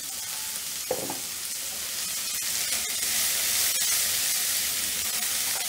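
Finely chopped onions fry in a pan for Mumbai-style paneer bhurji, giving a steady, close sizzle throughout with a few scraping stirs and one brief knock near the start.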